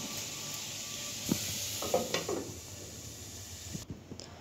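Winter vegetables being stir-fried with bori lentil dumplings, a steady sizzle from the pan with a few scraping stir strokes and light utensil clanks, close and moderately quiet, with no talking.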